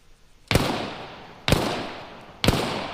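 Three loud, sharp gunshot blasts fire at roughly one-second intervals as a shooter empties his magazine, each crack trailing off in a long echoing decay.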